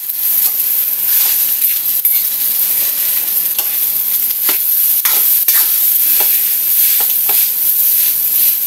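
Leftover fried rice with soy sauce sizzles in a hot pan as a spatula stirs it, making a loud continuous frying hiss broken by repeated scraping strokes, with no talking.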